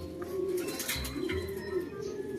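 A recovering racing pigeon coos softly in a loft, low rounded calls pulsing steadily through the clip with faint chirps from other birds behind.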